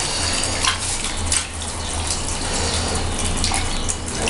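Shower water streaming steadily over a white rabbit, a loud continuous splashing gush close by with no pauses.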